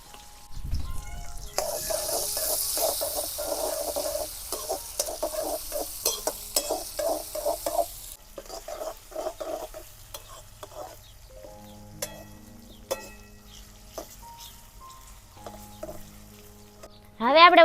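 Cumin, curry leaves, green chillies and onion crackle and sizzle in hot oil, with steady frying hiss and occasional stirring clinks; the sizzle fades after about eight seconds, leaving quieter pan sounds.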